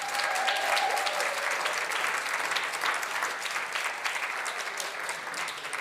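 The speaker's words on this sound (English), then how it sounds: "Please give him a massive, massive round of applause." Concert audience applauding a performer after his on-stage performance, a dense, steady wash of clapping that holds at full strength throughout with no voices over it.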